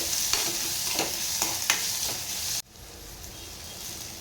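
Ground masala paste being sautéed with onion in a pan for a spicy mixed creek-fish curry, a steady sizzle with a few scraping stirs, cutting off abruptly partway to a quieter hiss.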